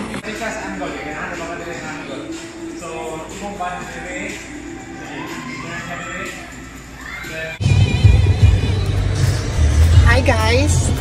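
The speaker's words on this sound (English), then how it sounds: "so I am driving right now." A car is driven with the listener inside the cabin. After a stretch of busy voice and background sound, a deep, steady road rumble comes in and holds under the other noise for the last few seconds.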